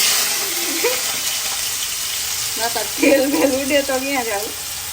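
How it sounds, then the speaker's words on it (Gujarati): Cubed potatoes dropped into hot oil crackling with mustard seeds, a steady bright sizzle that swells as the potatoes go in, with a quiet voice speaking in the background. "પછી હવે એમાં આપણે નાખી દઈએ બટેટા"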